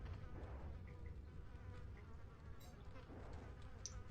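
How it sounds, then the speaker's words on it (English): Flies buzz steadily around cows and chickens on a farm in the video game Resident Evil 4, a faint continuous insect drone with low ambient hum underneath throughout. "Can sure hear the flies buzzing around, though."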